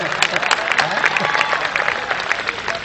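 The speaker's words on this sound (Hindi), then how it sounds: "इतनी भीषण तालियों से मेरा स्वागत तो जिंदगी में पहली बार हुआ है।" An audience at a kavi sammelan (Hindi poetry gathering) applauds to welcome a poet, with dense, close clapping running steadily throughout and crowd voices mixed in.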